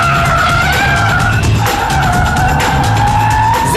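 Car tyres squeal in long, wavering skids as the car is driven hard, loud and continuous over a steady engine roar, with no talking.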